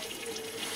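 A toilet on a houseboat wintering in ice, flushed with a button and fed straight from a pump station with no cistern, gives a steady close rush of running water for the whole short moment.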